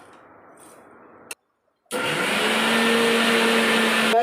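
A kitchen mixer grinder grinds roasted ginger in a loud, steady whir that starts abruptly after a short silence and keeps running evenly to the end, with no voices.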